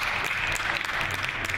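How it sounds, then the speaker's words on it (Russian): Dense, continuous clapping from a large crowd at an Arabian music concert in Saint Petersburg, steady and fairly loud throughout with no voices standing out. "Ваши аплодисменты, пожалуйста."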